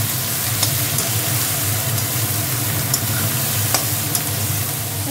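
Food fries in a pan with salt and turmeric, giving a loud, steady sizzle over a low rumbling hum, with a few faint clicks of stirring scattered through.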